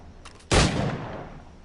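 A single sharp gunshot at targets in a timed shooting-gallery challenge in a video game, cracking loudly and trailing off in a short reverberant decay, preceded by a faint mechanical rattle.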